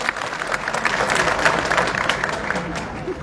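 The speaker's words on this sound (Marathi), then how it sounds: "त्यांच्यासाठी आपण जोरदार टाळ्या वाजवाव्या." A crowd at a public gathering in Bhigwan applauds steadily and loudly, dense clapping filling the whole stretch without a break.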